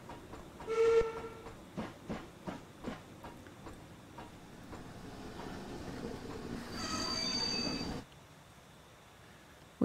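A TSC D.S.P.&P 2-6-0 Mogul model steam locomotive slows to a stop, with short chuffs and a brief whistle early on, then a sustained wheel squeal that cuts off abruptly near the end.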